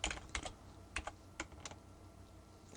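Quick keystrokes on a computer keyboard while entering a contact name for an Anytone 878 radio contact list, close and fairly quiet, with irregular clusters of clicks and short pauses between them.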